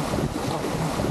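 A strong gust of wind roars across the microphone aboard a small trimaran sailing in Finland, a loud continuous rush blended with water noise and no voices.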